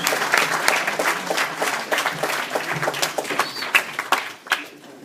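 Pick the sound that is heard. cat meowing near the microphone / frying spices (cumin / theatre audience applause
theatre audience applause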